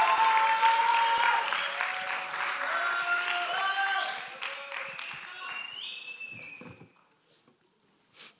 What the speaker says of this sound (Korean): 박수 크게 부탁드립니다.